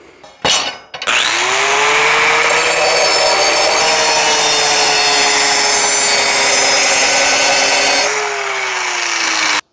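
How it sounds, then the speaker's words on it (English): Grinder sharpening steel lawn mower blades for a Bad Boy Maverick mower, a loud continuous whine of metal on abrasive lasting about seven seconds after a brief start, then tapering off, with no talking. "let's go get those blades sharpened"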